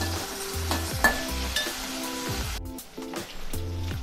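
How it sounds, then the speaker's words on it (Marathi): Chopped tomato and onion sautéing in a pan, a steady close sizzle with repeated scraping stir strokes and utensil clinks, the frying hiss dipping briefly midway before picking up again. "1 बारीक चिरलेला टोमॅटो यामध्ये ॲड करूया, हा सुद्धा परतून घेऊया"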